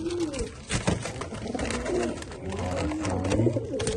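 Young racing pigeon squabs coo softly and repeatedly at close range, their low burbling calls overlapping with light rustling throughout.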